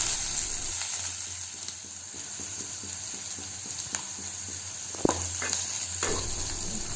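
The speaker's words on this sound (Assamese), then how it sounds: "তেল গৰম হোৱাৰ পাছত কাটি থোৱা পিঁয়াজখিনি দিলোঁ" Chopped onions fry in hot mustard oil in a wok, a close, constant sizzle with a few light clinks and stirring scrapes.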